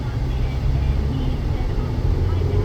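A small 2.0-liter four-cylinder engine in a 2007 Hyundai Elantra hums steadily from inside the cabin, a low, even drone with slight swells in loudness that continues throughout.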